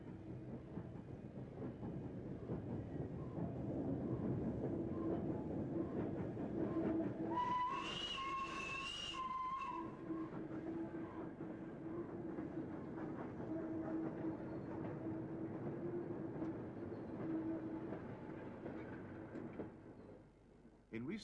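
LNER steam locomotive hauling a train on a heritage railway, a continuous rolling clatter over the whole span with a brief whistle near the start, heard under narration.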